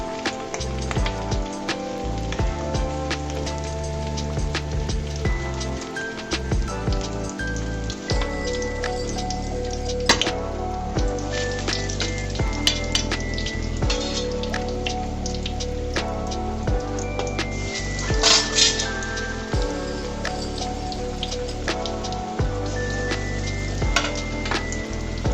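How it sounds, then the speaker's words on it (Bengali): Beguni, gram-flour-battered eggplant fritters, deep frying in hot oil for an iftar meal: a dense, continuous crackling sizzle like rain, with occasional louder pops and utensil clinks, close and steady with no talking. "এক পাশে বন্ধুরা আমি বেগুনিগুলোকেও ভেজে নিচ্ছি সুন্দর করে"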